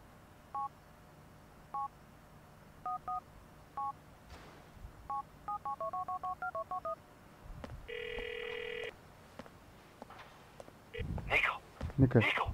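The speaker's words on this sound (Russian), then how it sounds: "Попробуйте позвонить Роману." In GTA 4, a phone dials a call with short beeping keypad tones in small groups, then a rapid run of presses and a long held electronic tone, followed by louder noise at the end.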